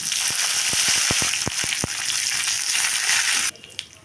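Curry leaves crackle and sizzle loudly in hot oil in a small tempering pan for peanut chutney. Sharp pops come in quick bursts, then the sizzle cuts off abruptly and only faint kitchen noise remains.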